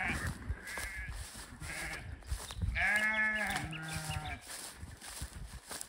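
Sheep bleat several times in quick succession, loud and close, over a soft outdoor background.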